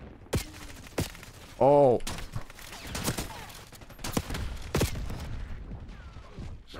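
Gunfire in the Call of Duty beta video game during multiplayer shotgun play: sharp, close shots scattered through the stretch, a brief burst of ringing game tones midway, and a short spoken exclamation.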